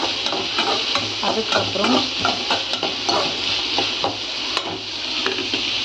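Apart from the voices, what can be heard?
onions sautéing in a pan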